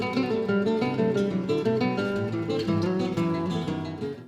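An acoustic jazz guitar trio plays a tune, several guitars weaving dense, continuous plucked lines and chords, full and close without any talk.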